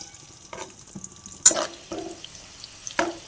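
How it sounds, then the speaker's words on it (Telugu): Ingredients frying in a pan for mint pulao, with intermittent scraping stir strokes over a soft sizzle and a sharper burst of stirring midway, close up with no talking. "సో ఇప్పుడు ఇది కొంచెం ఫ్రై అవ్వాలి."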